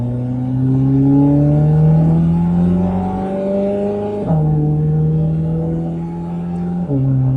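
Chevrolet Corvette C8 Z06 engine revving in sport mode, a loud, close exhaust note climbing smoothly in pitch for several seconds, then dropping and holding steady, with a second brief dip near the end.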